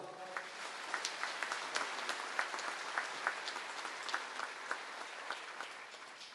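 Congregation applauding during Sunday Mass at the Caacupé basilica in Paraguay, a steady moderate-volume patter of many hands clapping with scattered sharper claps, sustained throughout.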